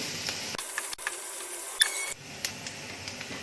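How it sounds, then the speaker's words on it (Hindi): Chopped garlic, ginger and onion sauté in a pan over medium heat with a soft, constant sizzle, as a ladle scrapes and stirs in quick, irregular strokes close by. "अब इन्हें भी भून लेंगे। इन्हें ज़्यादा ब्राउन नहीं करना। गैस को मीडियम पे कर देंगे और लगातार कड़छी चलाएंगे।"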